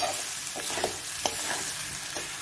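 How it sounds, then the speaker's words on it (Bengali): Raw jackfruit sautéing with cooked-down spices in a pan, a close steady sizzle broken by a few soft scraping stir strokes, with no talk. "এঁচোড়টা দিয়েও আর একটু কষে নেবো।"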